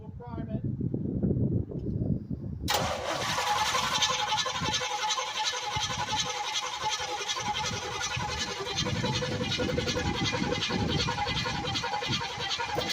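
An old engine cold-starts after its fuel pump is primed, abruptly catching and settling into a loud, steady, rough running roar that fills the rest of the clip, with voices heard near the start.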